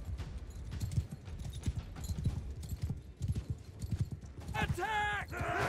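Steady clip-clop of galloping hooves with rhythmic thumps in Mount & Blade II: Bannerlord with a Game of Thrones mod, under a voice, ending with a loud horse whinny near the end.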